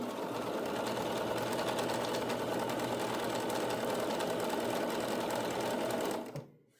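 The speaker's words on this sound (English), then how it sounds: "We're sewing these two pieces together with the fabric." A sewing machine stitches two fabric strips together, a close, loud, steady rapid whirring drone that runs unbroken for about six seconds and then stops abruptly, with no talking.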